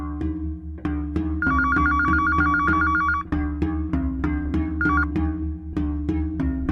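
A telephone rings in repeated electronic trills over a steady rhythmic background beat, the ring bursts coming loud and close in the middle of a Hindi crime drama scene.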